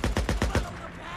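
A rapid string of about five gunshots from the video game Days Gone, evenly spaced and punchy, followed by a short fading tail.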